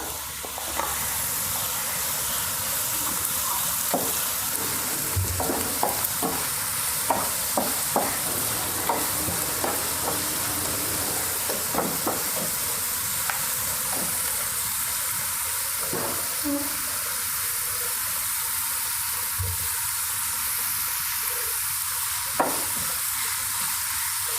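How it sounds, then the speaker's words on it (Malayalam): Garlic and ginger sizzle in hot oil in a pan for a squid roast, a steady frying hiss with occasional stirring scrapes and clinks, close and continuous. "വെളുത്തുള്ളി ഇട്ട് കൊടുക്കാം ഇഞ്ചി ഇട്ട് കൊടുക്കാം"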